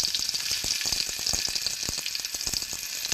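Onions fry in hot oil with crackling mustard seeds and curry leaves, giving a continuous sizzling hiss punctuated by sharp popping spatters, up close and fairly quiet, with no voices.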